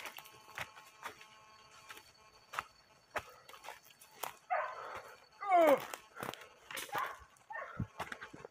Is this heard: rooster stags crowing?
no